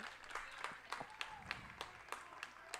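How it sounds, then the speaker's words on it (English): Baseball dugout players of the Conejo Oaks clapping during a championship game, scattered sharp claps repeating in an uneven rhythm at moderate distance within an open ballpark ambience. "Now the Oaks dugout clapping as well."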